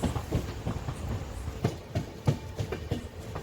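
A train rolls into Tiruchirappalli railway junction on a rainy day, its wheels beating out a steady clickety-clack of repeated thumps over rail joints, moderately loud and close, with no talk.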